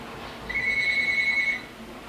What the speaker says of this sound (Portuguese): O telefone não para de tocar.